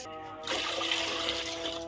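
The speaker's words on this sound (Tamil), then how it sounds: "தண்ணி நல்லா ஊற்றிக்கலாம்" Water is poured into a cooking pot holding a ground spice paste, starting abruptly as a steady, moderately loud splashing stream after a brief quiet moment.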